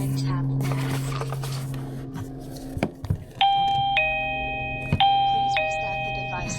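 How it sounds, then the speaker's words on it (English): MUBVIEW 2K wireless video doorbell chime after the bell button is pressed, ringing as a series of clear electronic tones in the second half, following handling clicks and a background hum, with a voice speaking. "Press the bell button and tap next."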